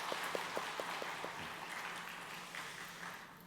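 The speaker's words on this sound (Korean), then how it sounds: "박수로 축하합니다." A church congregation claps during a Sunday worship service, a steady wash of applause with a few sharper individual claps early on, moderately distant and filling the room throughout.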